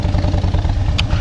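A motorcycle engine idles close by while the bike is being parked outside an Irish pub, giving a steady low chugging rumble with one brief clatter near the end.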